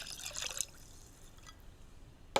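Plain water poured into a pot of braised short ribs with hoisin, a brief trickling splash near the mic that fades out, then a sharp clink at the very end.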